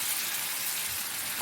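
Tomatoes sizzling in a hot frying pan as they are stirred, a steady soft hiss of frying close by, with no talking.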